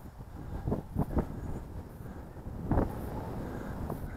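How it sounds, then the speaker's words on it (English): Steady outdoor wind buffets the microphone during a breezy drone test flight of an MJX Bugs 12 EIS folding 4K drone over a freshly harvested bean field, with low rumbling gusts swelling at intervals and no talk. "Very breezy today"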